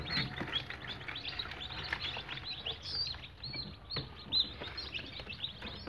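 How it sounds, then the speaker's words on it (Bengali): Farm chicken chicks near an incubator at a Chandpur agro farm, many high, rapid peeps overlapping continuously at close range, with occasional louder chirps standing out. "এগুলো সব ফার্ম মুরগির বাচ্চা।"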